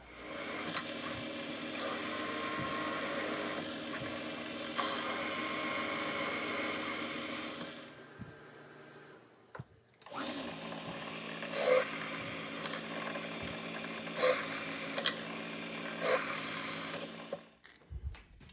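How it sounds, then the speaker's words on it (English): A drill whines steadily for several seconds, stops briefly, then runs again with a harsher grinding tone and occasional bumps before cutting off, drilling 3/16-inch holes in metal. "So we're going to drill three 3/16 holes through that"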